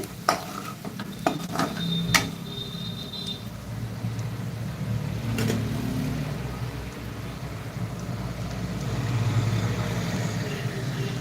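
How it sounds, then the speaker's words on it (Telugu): Mutton fry with fresh coriander and mint leaves sizzling in a pan, a steady close hiss with a few sharp stirring knocks early on and a faint low hum beneath, no one talking. "కొత్తిమీర పుదీనా కూడా వేసుకొని ఒక నిమిషం పాటు ఫ్రై చేసుకుంటే"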